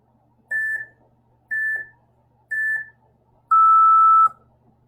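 An interval timer for a no-equipment home fitness workout beeps three short, evenly spaced electronic tones, followed by one longer final beep, clear and alone against faint room noise.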